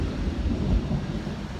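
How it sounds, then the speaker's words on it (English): A deep, rumbling roll of thunder, loud and continuous, with a low heavy texture and no voices. "Got thunder and lightning happening as I speak"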